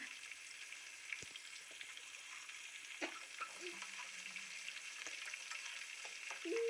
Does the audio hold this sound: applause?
no